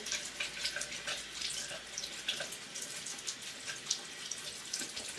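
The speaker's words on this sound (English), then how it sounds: "I will go ahead and I'll rinse it one more time and I'll kind of run my nails through" Tap water runs steadily while a makeup brush is rinsed under it, a close, splashy rushing stream with small irregular splatters as fingers work through the bristles.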